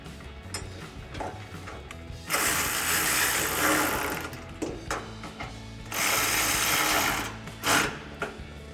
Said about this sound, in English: we can tighten those down with a 13mm socket